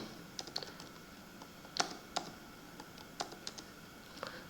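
Someone types on a computer keyboard while entering patient registration data into lab software, with scattered soft key clicks in an uneven rhythm, close but quiet, over faint room hiss.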